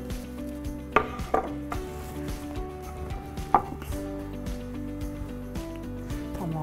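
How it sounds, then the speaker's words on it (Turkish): Onions gently sweating in a pan with occasional clinks and taps of a utensil against the pan, close and steady. "Şimdi bu soğanları iyice terletelim."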